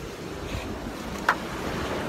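Atlantic Ocean surf washes and rumbles steadily with wind buffeting the microphone, and one brief sharp splash stands out near the end.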